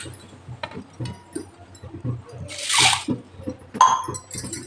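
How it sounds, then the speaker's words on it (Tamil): Soaked green gram (mung beans) being washed in water, with two brief splashing swishes in the middle and near the end while someone talks throughout. "இதை நான் அப்படியே வாஷ் பண்ணி இதிலே போட்டுக்கலாம்."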